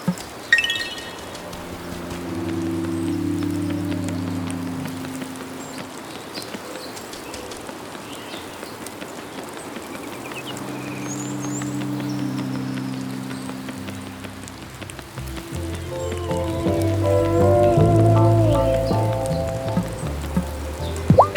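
Steady rain falling in the video game Wylde Flowers, a continuous soft patter on surfaces, with gentle musical tones rising and fading over it at intervals.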